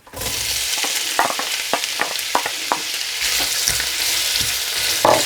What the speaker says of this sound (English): we're going to add the onions and we're going to fry them until they're nice and golden brown